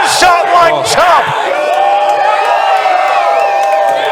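A wrestling-event crowd of fans chants and cheers loudly and continuously, with shouts rising near the start and a sustained roar beneath a commentator's voice.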